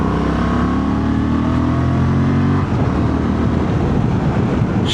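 A 2025 Honda Transalp 750 motorcycle pulls hard in third gear uphill, its engine note rising loud and close, then easing into a rougher, wind-buffeted roar.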